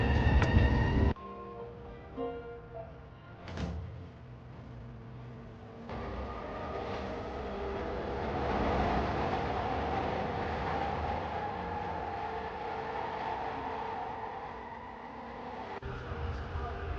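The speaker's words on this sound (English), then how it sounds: "we're at the train station now, and I'm waiting for the next train" A train at a station: a low steady rumble and rolling roar swells and fades over many seconds, with a loud onset, a few sharp clanks early on and faint voices underneath.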